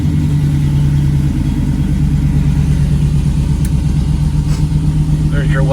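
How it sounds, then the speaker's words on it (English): A fuel-injected 1970 Chevrolet Nova engine idles loud and close with a deep, steady throbbing rumble, a few faint clicks near the end. "I'm gonna fire it up so you guys can hear it."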